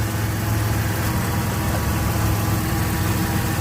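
A 1987 Camaro engine idles steadily with a low, even rumble and a constant hum, loud and close throughout, with no voices.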